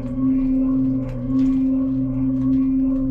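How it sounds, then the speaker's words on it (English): An Electro-Harmonix Canyon echo pedal produces a steady, loud, eerie drone with sustained tones and faint echoing textures that hold throughout. "Got some eerie droning sounds with an echo because we're going through my canyon by Electro Harmonix"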